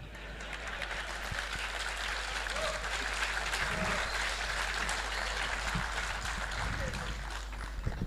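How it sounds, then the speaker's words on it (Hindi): Audience applause, a sustained dense clapping from a crowd at a talk, steady and even throughout at moderate distance. "आप लोगों ने तालियां बजाई"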